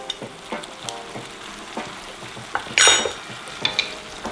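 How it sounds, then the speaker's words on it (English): Bacon jam sizzles steadily in a hot cast iron pan, a continuous close frying hiss with scattered pops and a brief louder burst of spitting midway. "We've got our bacon jam going, just about done."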